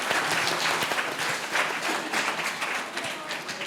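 Audience applause at an alumni panel discussion during a school orientation day, steady dense clapping from a full room holding at an even level throughout.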